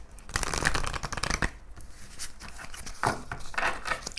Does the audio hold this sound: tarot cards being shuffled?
yes